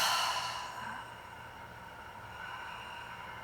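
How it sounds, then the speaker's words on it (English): A loud breath pushed out through the mouth during a yoga session, a single long exhale that is strongest at the start and then trails off into a soft, steady hiss, with no talking. "a big inhale through your nose and let it out through your mouth, a loud exhale"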